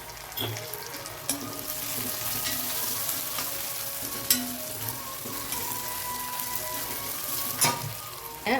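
Onion sautéing in oil with a little spice powder for avarakkai poriyal gives a soft, steady sizzle, broken by occasional spoon scrapes and stirring taps across the pan, close by with no talk.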